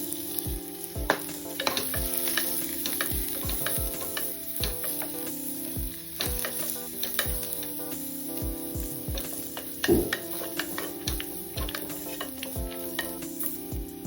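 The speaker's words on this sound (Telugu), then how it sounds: "తరిగిన కొత్తిమీర, పుదీనా, కరివేపాకు వేగనివ్వాలి" Chopped coriander, mint and curry leaves frying in oil for tomato rasam, with a continuous close sizzle and frequent sharp spoon taps and scrapes against the pan.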